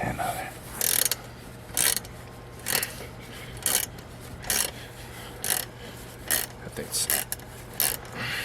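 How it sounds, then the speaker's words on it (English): A wrench loosening a tight nut and bolt on a horse fly catcher trap, giving a steady series of short metallic ratcheting clicks in a regular rhythm, close and moderately loud with no talk over it. "he's going to loosen the nut and bolt"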